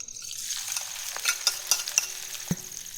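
Onion frying in hot oil with a soft sizzle, light scraping and a few stirring clinks, steady and close, no voices.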